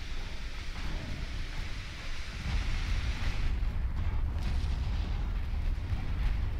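Torpedo explosions rumble through a naval battle in the warship game Ultimate Admiral Dreadnoughts, a dense, continuous roar of deep booms and crackling blasts that swells slightly midway.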